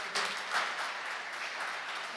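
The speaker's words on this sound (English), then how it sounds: "Would you mind giving these two a great round of applause?" An audience at a restorative justice community court graduation ceremony gives a short, moderately loud round of applause with dense overlapping claps.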